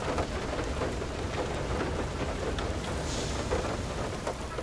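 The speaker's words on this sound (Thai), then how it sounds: "ออกไปเราโดนลูกเห็บตกใส่เรือเราจะพังเรือ" Hail and a storm pound a boat in the video game FAR: Lone Sail, with dense, continuous rain-like hissing and rumbling, loud and unbroken, no voices present.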